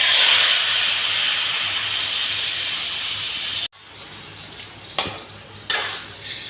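Desi chicken pieces fry in hot oil with dried red chillies and a bay leaf, making a loud, continuous hiss that cuts off abruptly. A quieter sizzle follows, broken by a couple of sharp clanks of the stirring utensil against the pan.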